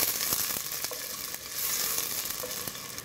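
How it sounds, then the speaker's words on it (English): Onions fry in a pan for an Indian chicken masala, giving a dense, steady, close sizzle with small crackling pops scattered throughout. "While those onions are frying"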